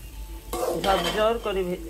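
Rice and lentils fry in a pan and are stirred with a utensil, giving a short burst of close sizzling with scraping and clinking against the metal.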